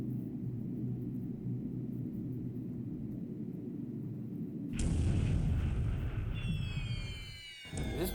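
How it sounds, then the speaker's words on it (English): Bomb hits in the Pacific: AE naval wargame thump with a low rumbling boom, then a louder burst of explosions with whistling, falling tones over continuous heavy rumble. "now we have 1 more bomb hit"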